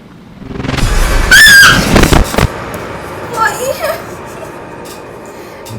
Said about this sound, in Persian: تو جیغ برای چی میزنی؟